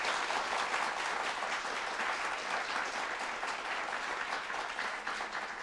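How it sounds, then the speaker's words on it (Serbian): An audience applauds at a lecture on higher education, a dense, continuous wash of many hands clapping at a moderate distance that holds steady for several seconds. "Evo, nagradite aplauz."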